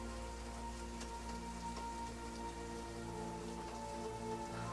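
Steady rain in the video game Final Fantasy XIV, a dense continuous patter of drops on surfaces, even and unbroken throughout, over a faint tonal ambient hum with no talking.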